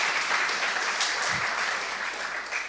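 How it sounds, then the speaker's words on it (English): An audience at a live event in a Paris lab claps in a steady, moderately loud wave that thins slightly near the end, with one low thump partway through. "I wrote down, wait for applause."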